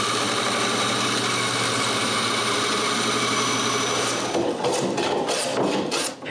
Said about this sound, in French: je coupe un côté relativement droit à scie à ruban.